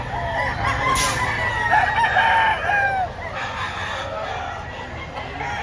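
Gamecock roosters crow repeatedly over a noisy background of chickens clucking and milling about, with several overlapping calls from nearby and farther away.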